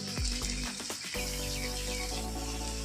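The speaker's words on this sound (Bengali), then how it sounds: "এবার আমি এভাবে ভাজতে থাকবো, একটু ঢাকা দিয়ে দিয়ে ভাজবো।" Prawns coated in mustard-poppy paste fry steadily in a covered pan, giving a constant broadband sizzle with a few brief clinks and bumps early on, then a smooth continuous hiss with no voices.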